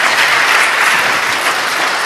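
Audience applause at a live comedy stage show, a dense burst of clapping filling the room for about two seconds.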